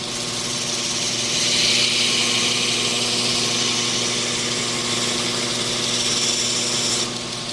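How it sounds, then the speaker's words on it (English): A belt grinder runs steadily while hollow grinding a knife blade held in vice grips, a continuous loud whirring hum with abrasive hiss from the belt on steel, no talk. "Let the belt and the grinder do the work. I just guide the blade."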